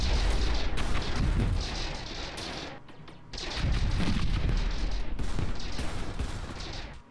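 Missile launchers and weapons firing in a space battle in the strategy video game Stardrive 2, a dense, loud barrage of booming blasts and rapid gunfire that briefly drops off near the middle before surging back.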